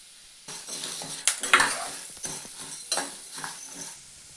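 Coriander seeds, cumin and sesame seeds roast in a pan for curry leaf powder, starting with a faint hiss and then a burst of spoon scrapes, rattling seeds and light metal clinks, close and irregular.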